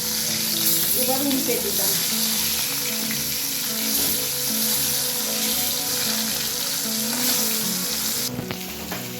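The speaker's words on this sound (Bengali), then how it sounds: "তেলটা গরম হয়ে গেছে, মাছগুলো তেলের মধ্যে দিয়ে দিলাম।" Rohu fish pieces fry in hot mustard oil, a steady close sizzle with stirring and spatula scrapes throughout, while a voice speaks briefly over the cooking.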